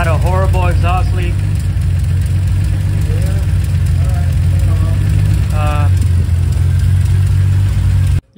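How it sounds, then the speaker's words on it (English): A Toyota Supra MK3 with a 7MGTE engine idles with a large exhaust leak, giving a steady loud close rumble throughout while a person talks over it, before the sound cuts off at the end. "You guys heard, huge exhaust leak."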